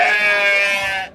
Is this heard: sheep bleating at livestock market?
yes